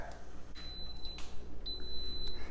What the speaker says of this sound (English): You hear that? It is a beep.